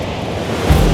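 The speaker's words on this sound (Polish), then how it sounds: "Faktycznie potęga, potęga wodospad i bardzo piękne okoliczności przyrody." A powerful waterfall in Canada roars as a dense, steady broadband rush, close and loud, with a heavier low rumble swelling near the end.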